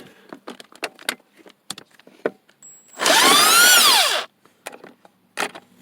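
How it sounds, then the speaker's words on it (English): A power drill driving bolts whirs once for about a second, its motor pitch rising then falling, between scattered clicks and clanks of metal parts during shift indicator replacement on a 1990 Pontiac Bonneville. "So we can get our drill here and go to town."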